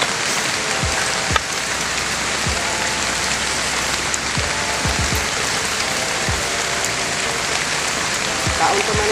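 Rain falling steadily, a dense continuous hiss of drops with occasional louder drips and low thuds scattered through it, alongside faint background voices.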